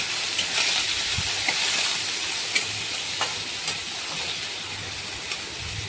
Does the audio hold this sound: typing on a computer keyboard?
no